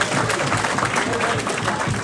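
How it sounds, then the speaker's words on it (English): Banquet and gala audience applauding, loud, dense and continuous clapping from a large crowd close by. "give yourselves a round of applause"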